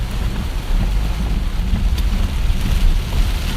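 Rain during a storm chase near McKinney, Texas, a dense steady hiss of heavy rainfall with low rumbling wind and road noise from inside a vehicle in traffic, no voices.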